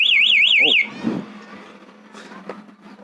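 A motorcycle alarm buzzer on a Suzuki Satria or Raider FI 150 sounds a loud warbling siren tone for under a second during a test, then cuts off, leaving quiet background hum and faint handling noises.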